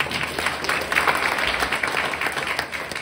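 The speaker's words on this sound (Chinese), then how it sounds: "真的是要给你们自己本身一个热烈掌声" Warm applause from an audience at a leadership training seminar, a steady dense wash of many hands clapping together for about three seconds with no voices over it.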